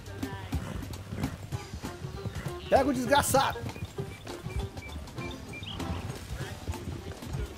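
Horse hooves clip-clop in Red Dead Redemption 2 gameplay, a steady run of hoofbeats under loud talk from players, with a brief whinny-like burst near the middle.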